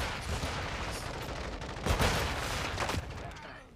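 Rapid gunfire from the Call of Duty Modern Warfare II video game, a steady rattle of shots with a few louder bursts in the middle, no speech.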